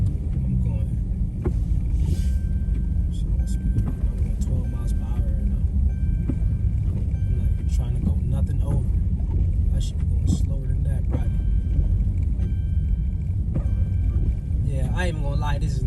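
A V6 Dodge Charger drives through a snow storm, with a loud, constant engine and road rumble and wind buffeting throughout, and a voice talking over it.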